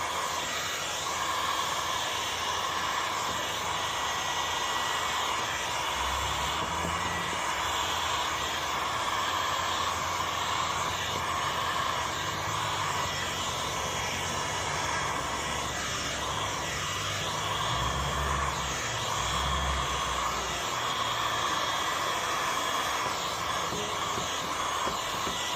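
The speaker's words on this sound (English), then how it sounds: "Then we grab ourselves heat gun and shrink it. We'll throw some heat in." A heat gun blows hot air onto window tint film laid over glass to shrink it into shape. It makes a continuous, even hiss and rushing airflow that stays steady throughout, with faint handling noises underneath.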